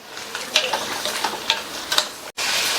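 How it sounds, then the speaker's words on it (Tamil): Tomato and tamarind sauté in oil in a pan for chutney, a gentle sizzle broken by several sharp clicks and scrapes of stirring, close and brief, with no speech. "இப்போ நம்ம சேர்த்துருக்கிற தக்காளி புளி ரெண்டுமே நல்லா எண்ணெயில் வதங்கி"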